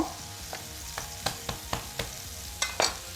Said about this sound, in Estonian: Siis paneme siia küüslauku ka.